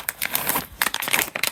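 Plastic poly envelopes crinkling as they are handled in a craft room, a close, loud run of sharp crackling bursts with brief pauses.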